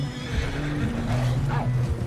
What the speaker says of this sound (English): Am I hearing another wolf here, or is that the horse?